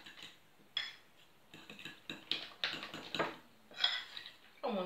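A utensil stirs an omelette mixture with dill in a bowl, making repeated quiet clinks and scrapes in short irregular bursts, with soft speech in the background.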